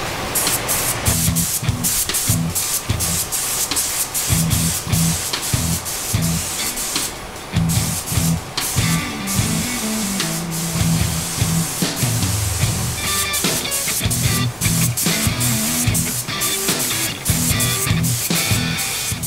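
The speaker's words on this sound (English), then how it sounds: "Now I'm using the Spray Chief Fluorescent Colours." Continuous hissing bursts of a Spray Chief fluorescent aerosol paint can, sprayed on a motorcycle in repeated long pulses with brief pauses between, close and steady.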